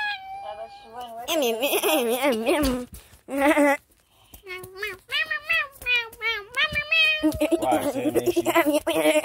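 A cat meows repeatedly and loudly up close, the calls wavering and stretched, coming in quick successive bursts with short pauses between them.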